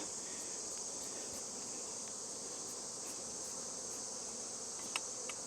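Honey bees knocked off honey frames during a summer harvest make a steady, high-pitched buzzing swarm drone, close and continuous, with a couple of faint taps near the end.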